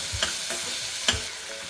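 Onions sautéing in a pan for a raw jackfruit curry, with a continuous soft sizzle and two or three brief scraping stirs of a spoon, close up and without talk.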